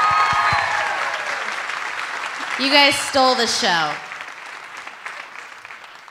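An audience applauds a dance troupe at a local dance competition, steady clapping filling the room and fading gradually while a person speaks over it.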